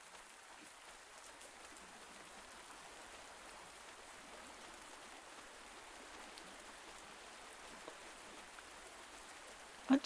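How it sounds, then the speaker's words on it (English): Steady rain patters in a farming video game, a soft even hiss held through the whole stretch with no talk, ending in a couple of brief clicks. "The sound of the rain is so relaxing too."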